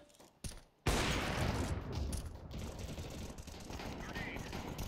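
Counter-Strike 2 gunfire on the Office map, heard as a few sharp shots followed by a dense, sustained burst of rapid fire that keeps going in the background at moderate loudness.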